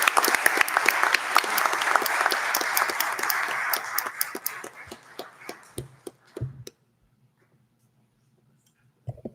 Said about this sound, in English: Let us all give one more round of applause